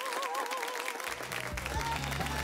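An audience applauds a singer with a steady, dense patter of clapping that continues throughout, mixed with sustained musical tones and a low thumping beat.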